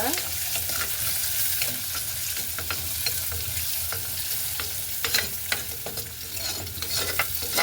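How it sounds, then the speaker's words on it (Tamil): Chopped onions sauté in a hot pan with a continuous sizzle and frying hiss, with scattered scraping stirs and clicks from a utensil heard up close, no talking. "இப்போ நாங்கள் இந்த வெட்டி வச்சிருக்கிற வெங்காயத்தையும் இதோட சேர்த்து வதக்கி விடுவோம்"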